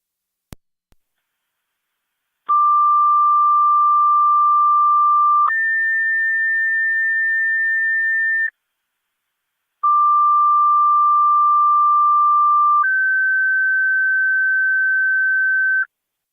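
Niagara County Fire Control dispatch paging tones come loud and clean over a police and fire scanner. Two two-tone sets play, each a long steady tone stepping up to a higher one, separated by a short gap, with no voice.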